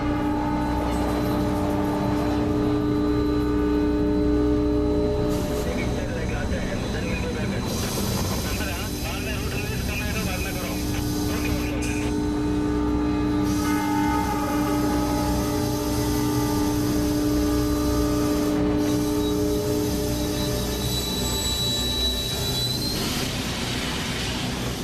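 Train on a busy Mumbai railway track, its steady rumble and horn-like tonal hum building across the clip with voices audible beneath the noise.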